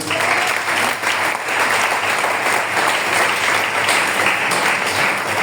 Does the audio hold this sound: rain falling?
no